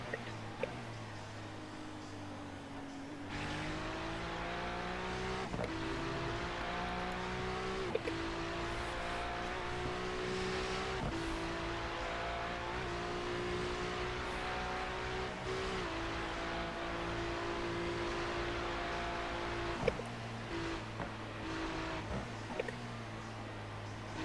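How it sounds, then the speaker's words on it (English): Race car number 55 pulling away during the night at the 24 Hours of Nurburgring, a loud engine note rising and holding steady through gear changes over a long stretch, with a constant low rumble beneath. "Car number 55 is now leaving."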